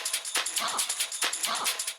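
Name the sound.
Think drum break sample loop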